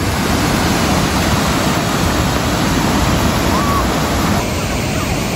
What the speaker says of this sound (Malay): ini ada suasana di air terjun Lasir